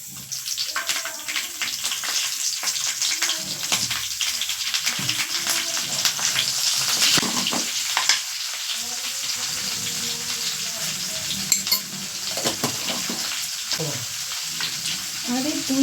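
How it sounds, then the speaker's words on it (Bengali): Potatoes going into a frying pan with cumin tempering in hot oil, raising a loud, continuous sizzle and crackle with stirring noises and a few brief murmured words in the background. "চলো এবারে আলুগুলো দিয়ে দিই"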